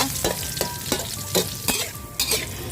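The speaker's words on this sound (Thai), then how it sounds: "ทำการผัดค่ะ เพื่อลดกลิ่นคาวของ หอยแมลงภู่นะคะ" Mussels stir-fry in oil left over from frying holy basil leaves, giving a continuous loud sizzle broken by regular spatula scrapes against the pan about every half second.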